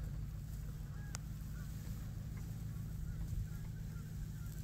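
Faint goose honks call out a few times over a steady low rumble of background noise, distant and sparse.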